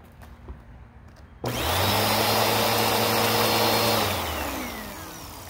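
A Bissell 2191 vacuum cleaner motor switches on after a quiet moment and runs loud and close with a steady whine, easing slightly in volume toward the end.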